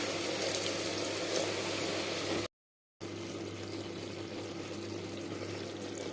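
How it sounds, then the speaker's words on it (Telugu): Water goes into cabbage curry in a pressure cooker, a steady broadband rushing and sizzling hiss that stops briefly for a gap and then resumes, close and fairly even in loudness. "ఇప్పుడు కొద్దిగా వాటర్ యాడ్ చేద్దాం"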